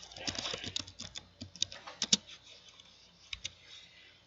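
Rapid computer keyboard typing as a network interface command is entered during a lab exercise, a run of close, sharp key clicks in uneven bursts that thin out into a few isolated taps.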